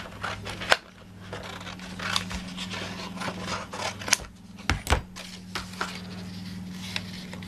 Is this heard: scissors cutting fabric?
yes